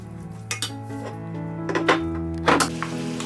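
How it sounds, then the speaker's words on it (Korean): Bean sprouts with sesame seeds and sesame oil tossed in a hot pan over high heat, a few quick clanks and scrapes of utensil on metal over a low steady background. "깨 넣고 참기름 넣어주고요. 다시 한번 살짝 뒤집어 준 다음에"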